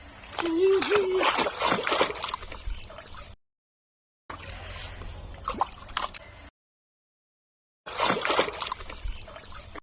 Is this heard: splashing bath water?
yes